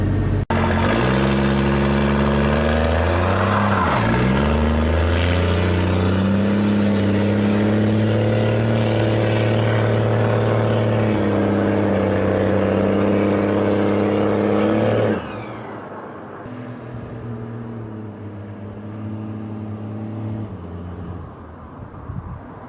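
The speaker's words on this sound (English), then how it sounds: "I'll set you guys up and do a little bit of a drive-by for y'all." A modified diesel truck with fuel pin mods makes a drive-by, its loud engine droning with rising and falling revs as it nears and passes, then dropping sharply to a quieter, distant rumble.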